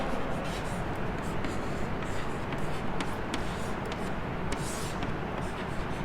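Chalk or marker scratches steadily across a board during a differential equations lesson, a continuous close scraping texture with light taps and strokes throughout.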